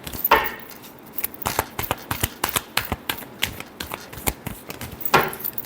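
A deck of tarot cards being shuffled by hand, with a run of quick, crisp card riffles and slaps ticking at a steady rhythm, and a brighter burst at the start and again near the end.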